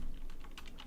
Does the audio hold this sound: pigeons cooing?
no